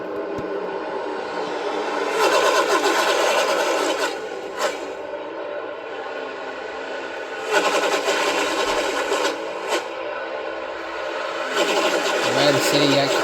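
Toyota NASCAR stock cars race past at the Coke Zero Sugar 400, engines roaring in loud recurring sweeps that swell and fade, with commentators talking over the field throughout.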